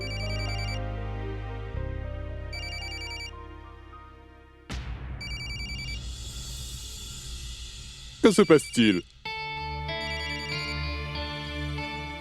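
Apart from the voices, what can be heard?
mobile phone ringing in a classroom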